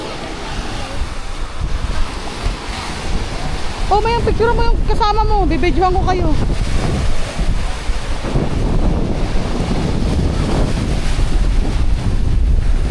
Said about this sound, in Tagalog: Ganda ng dagat, oh. Maalon kasi dito, lovely.